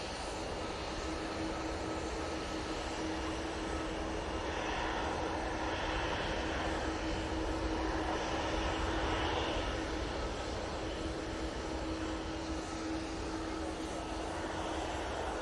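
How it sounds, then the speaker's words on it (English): A Loganair ERJ 145 regional jet readies for departure at Manchester Airport, a constant distant jet-engine drone with a steady whine, no talk over it. "Loganair ERJ 145 ready to go."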